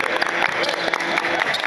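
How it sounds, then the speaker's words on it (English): A basketball team huddled during an AAU game claps together in a dense, fast patter of many hands that continues throughout without a break. "Y'all clap it up, clap it up, clap it up"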